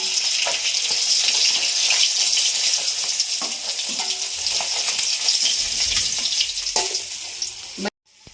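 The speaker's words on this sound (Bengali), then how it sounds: "বাকি মাছগুলো ভেজে নেব" Silver carp pieces fry in hot oil with a dense, continuous sizzle and crackle, scraped and stirred now and then, close and loud before stopping suddenly.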